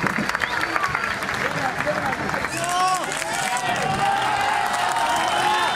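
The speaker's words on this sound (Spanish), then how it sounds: "los rescatistas reciben con aplausos a los sobrevivientes que ellos mismos logran encontrar" Rescuers applaud survivors at an earthquake rescue scene, with clapping and crowd noise at first, then shouting and cheering voices rising over a continuous crowd din.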